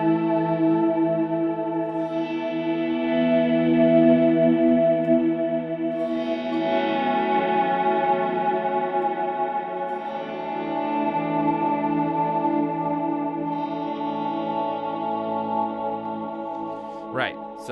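Guitar fed through a Disaster Area DMC-8d delay pedal, sustained chords swelling into long washy trails that overlap and hang on, steady and fairly loud with no talking.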